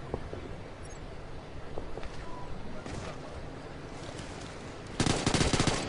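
An ACR rifle in Ghost Recon Future Soldier lets out a rapid, loud burst of automatic fire near the end, following low, noisy rumbling game ambience with a few scattered faint cracks.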